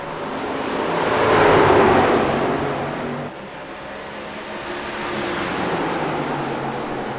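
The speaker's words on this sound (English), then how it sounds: "You can hear the truck slide into the corner." A loud race truck engine roars and swells as it speeds past at Lucas Oil Raceway, dips abruptly as it slides into a corner, then keeps droning at high revs.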